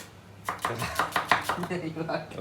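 Onion being finely chopped with a knife on a board, a quick run of close, regular sharp chops of about ten strokes.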